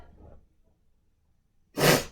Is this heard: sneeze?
yes